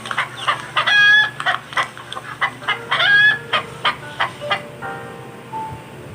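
A rooster crows loudly among a run of rhythmic clucks and squawks from nearby chickens, with no talking.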